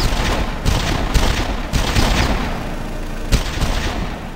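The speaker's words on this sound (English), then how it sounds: "if you want to switch to first-person shooter mode, Anton can actually move around the room and point and shoot things" Gunfire from a first-person shooter game demo played with a Sony motion controller: several loud bursts of rapid shots arrive in quick succession, each cracking sharply then trailing into a rough, echoing roar.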